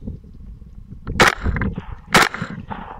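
Two sharp air rifle reports from a Rix Tourer T20 firing 92-grain Grendel Hammer bullets during a nighttime hog hunt, spaced about a second apart, each a loud crack over a low rumbling background.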